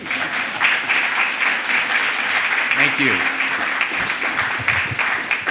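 Steady applause from a town hall audience at the Old State House fills the hall, with a brief spoken thanks near the end.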